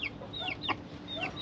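Chicks in a backyard coop clucking and chirping while being fed, several short, high, sweeping calls close by over a soft steady background, with no talk.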